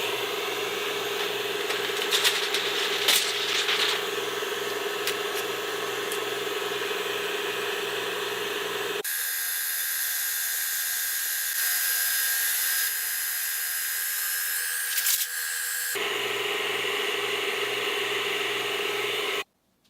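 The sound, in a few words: Atomstack A20 Pro laser cutting thin metal sheets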